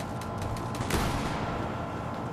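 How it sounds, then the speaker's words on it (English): Gunfire in a rough neighbourhood, a quick series of sharp cracking shots with one louder burst near the middle, heard at moderate distance over steady background noise. "I hear gunshots"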